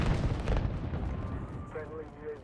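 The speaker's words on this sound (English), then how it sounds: "Snapshot grenade! That takes a long time to explode." A snapshot grenade detonates in a video game with a loud, rumbling boom that decays into a diffuse roar, followed by fainter clatter and softer game sounds.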